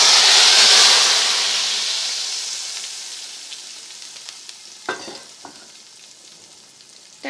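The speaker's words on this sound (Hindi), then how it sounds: "और इसमें हम लगाते हैं तड़का।" Hot oil sizzles loudly as tempering spices hit the pan for beef paya, the hiss gradually fading, followed by a few light clinks near the end.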